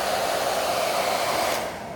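A handheld hair dryer blows steadily and loudly while hair at the crown is styled for volume, a constant broadband whoosh that drops slightly in level near the end, with no talking.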